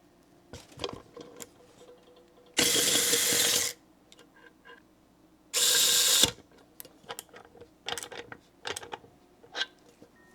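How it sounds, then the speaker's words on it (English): A VESSEL 400ER electric ratchet running its power ratcheting function, heard as two loud, steady motor whirs about a second long each. Sparse clicks and handling taps come before, between and after them, all close up. "the power ratcheting function on this is weak"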